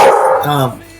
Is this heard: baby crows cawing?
no